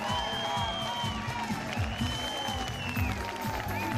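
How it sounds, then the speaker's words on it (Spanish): A crowd applauds the first-place winner at a night ranchero festival in Pilay, Mostazal, clapping and light cheering under loud ongoing music with a steady bass beat and melodic instruments. "El aplauso tremendo porque Christopher Holguín sacó el primer lugar de esta noche"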